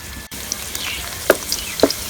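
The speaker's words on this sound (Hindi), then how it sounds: "अब इसमें शामिल करेंगे प्याज। प्याज को थोड़ा सा भून लेंगे" Onions frying in oil in a village-style kitchen for moong dal make a soft, steady sizzle with a couple of brief clinks or stirs, heard up close and without speech.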